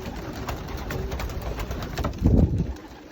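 Young racing pigeons in a one-loft race loft coo and flutter steadily, a soft continuous bird murmur with a louder burst of wing and body movement near the end.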